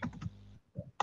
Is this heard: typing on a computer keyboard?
yes